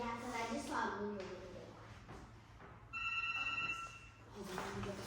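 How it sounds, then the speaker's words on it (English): A telephone rings briefly indoors, its electronic tone sounding partway through, with people talking before and after it. "Is that the phone?"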